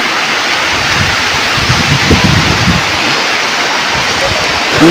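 Heavy rain during a storm pours down as a dense, loud, continuous roar with wind-like rumble, and a voice talks beneath it at moments.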